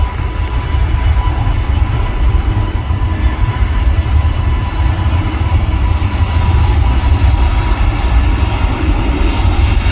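Jet airliner taking off at Manchester Airport, a loud, steady broadband roar with a faint whine, heard from a viewing area and holding constant throughout with no voices.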